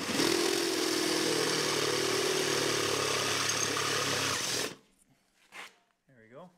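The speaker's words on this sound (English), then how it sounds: "Have a good drill bit. This one's kind of big, but it's a really good sharp one. It's got the step teeth," A large sharp step drill bit bores through the bowed tunnel of a 2022 Ski-Doo Summit SP Gen 4 snowmobile, a loud, steady whirring drone for about four and a half seconds that then cuts off, leaving brief faint noises.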